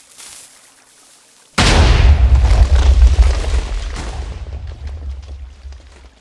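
A TNT charge set off with redstone wiring blows up in Minecraft. After a brief quiet hiss comes one sudden loud boom with a deep rumble that slowly fades.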